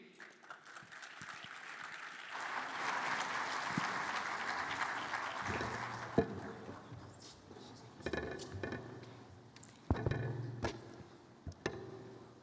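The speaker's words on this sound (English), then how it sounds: "please give a warm round of applause to the person that will take over" Audience applause at the opening ceremony of the Commonwealth Business Forum in Kigali, swelling over the first few seconds and then thinning into scattered claps and some clinking and knocks.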